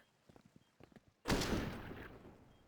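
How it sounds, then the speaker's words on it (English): A single sharp gunshot from a Counter-Strike: Global Offensive match replay, a one-bullet headshot tap, bursts loud and close after quieter footstep-like taps, then rings out in a decaying reverberant tail. "Bang, 1 bullet. All he needs. Headshot machine."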